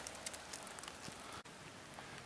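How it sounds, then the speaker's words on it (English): Steady rain falls outdoors near a castle, a dense, even hiss of drops on surfaces with faint patter throughout and one brief dip in the middle, no voices. "It's raining."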